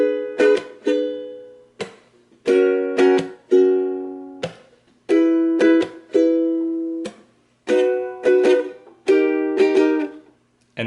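A ukulele strums the verse chords of a song in clear down-strokes, grouped in bursts with short gaps between, bright and close with no voice.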